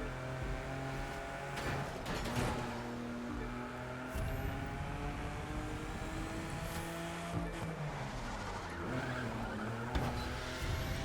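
An Alfa Romeo Giulia skids and squeals its tires in the racing game The Crew 2, with a steady engine drone and repeated screeching slides under continuous game audio.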